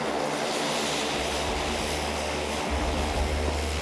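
Military propeller airplane carrying commandos, its engines droning loud and steady throughout with a constant low rumble and no speech.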